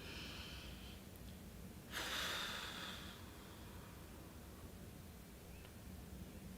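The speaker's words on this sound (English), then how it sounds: "deep breath, blow out" A single breath is taken in and blown out, a soft airy rush over about a second amid quiet steady background hiss, with no talking.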